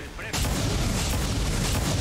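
Gunfire in the strategy video game XCOM 2 with the Final Modpack: a dense, loud, sustained barrage of shots and booms begins abruptly after a quiet moment and continues to the end.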